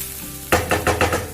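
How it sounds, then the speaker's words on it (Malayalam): Cabbage and grated coconut being stirred in a pan, a faint hiss at first, then four or five close scraping, stirring strokes over a soft sizzle, with no talking. "തേങ്ങ ചേർത്ത് കൊടുത്ത് 1-2 മിനിറ്റ് കൂടി നന്നായിട്ട് ഇളക്കി യോജിപ്പിക്കുക."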